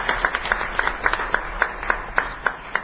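Applause from an audience at a state education board meeting: scattered, fairly light hand claps in an uneven rhythm, moderately distant and filling the room without voices over them.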